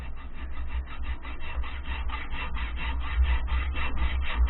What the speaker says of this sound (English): And then we use a hacksaw.